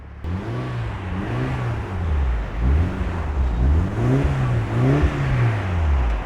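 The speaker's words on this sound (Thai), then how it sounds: "เดี๋ยวเรามาฟัง เสียงท่อกันนะครับ" A Mitsubishi Lancer Evolution VII with a tuned 4G63 engine revs repeatedly through its exhaust. The loud, close engine note swells and falls in a steady series of throttle blips.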